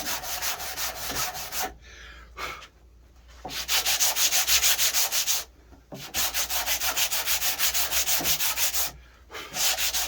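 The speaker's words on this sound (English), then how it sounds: "I'm going to get a sandpaper and a block now, just to help straighten these out." Sandpaper on a block rubs along a mahogany guitar neck in loud, close, rhythmic strokes. Several bursts of rapid back-and-forth scraping are separated by short pauses.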